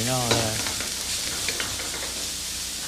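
Liver from Lyon fries in a pan with a loud, continuous sizzle close up, a brief clink of utensil near the start, no voices.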